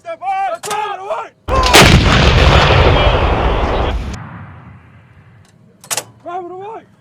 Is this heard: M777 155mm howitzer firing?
yes